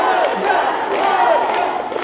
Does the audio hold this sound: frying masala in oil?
no